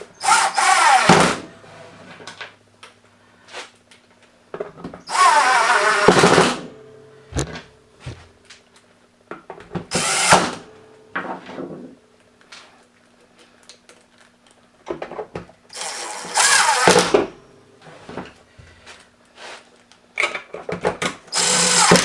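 Power drill driving screws into the reassembled housing of a Neato robot vacuum during a LIDAR motor replacement, sounding in several loud separate whirring bursts of a second or two, with short clicks and handling noise between them and no talk.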